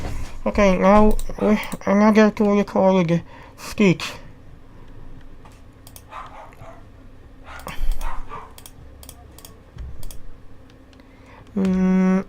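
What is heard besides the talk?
dogs barking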